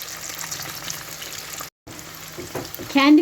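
Oil hisses and splatters steadily in a pan while frying çiğ börek, with a brief cut and a voice rising at the end.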